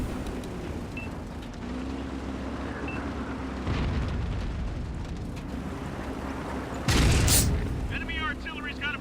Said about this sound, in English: Enemy artillery's got a bead on us!